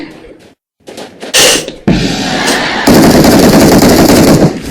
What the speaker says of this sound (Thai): เดี๋ยวผมไปยิงข้างหน้าดีกว่า